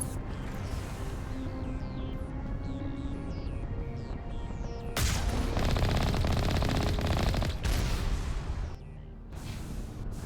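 Enemy turrets in the Mass Effect: Legendary Edition video game open up in a dense, rapid burst of automatic fire lasting a few seconds, rising sharply over a steady mechanical hum, then cutting off back to quieter ambience.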